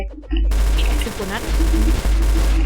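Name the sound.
M249 machine gun firing in Roblox Blox Fruits video game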